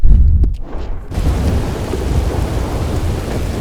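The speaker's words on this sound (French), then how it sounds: "Incroyable orage." A thunderstorm in the video game Red Dead Redemption 2 brings a loud, close rumble of thunder over steady heavy rain that hisses throughout the whole stretch.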